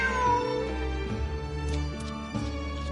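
A cat in the video game Genshin Impact lets out a drawn-out meow over a layered game soundtrack, with a few soft short sounds scattered through it.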